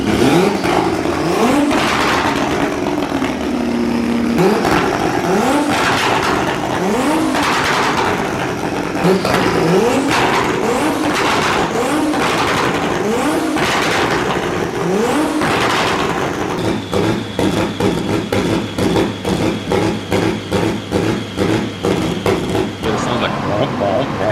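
A turbocharged BMW E46 M3 on a dyno, very loud, revving hard in repeated rising pulls, then rapid stuttering, popping bursts near the end, with voices talking over it.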